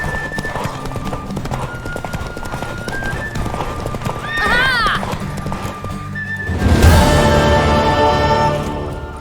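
Horse galloping with rhythmic hoof clip-clops, then a sharp whinny around the middle and a louder burst of hooves and neighing near the end, in The Witcher 3 video game, with character voices heard over the action.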